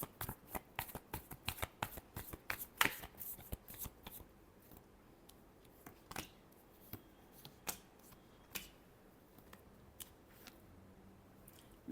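Tarot cards are shuffled by hand in a rapid run of crisp riffling snaps and flutters, close and fairly quiet, the bursts thinning out toward the end with no talking.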